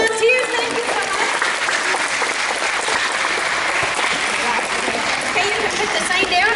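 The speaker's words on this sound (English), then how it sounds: "let's clap it up for my volunteers" Audience applause for volunteers at the Kalamazoo Air Zoo's Fizz Boom Soar science program, a steady, dense clapping that holds loud throughout with a few voices mixed in.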